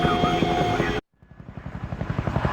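A helicopter in the Project I.G.I. 2 Covert Strike game, with rotor chop cut off by a brief silence and then rising again as rapid rhythmic thumping that grows louder, heard with speech.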